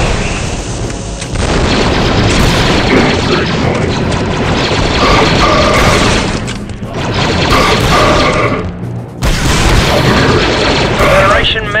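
Loud, dense blasts and booms from a squad's explosive charge in Star Wars Republic Commando, with gunfire and clattering battle noise running continuously and brief dips between the heavy bursts; voices speak amid the combat.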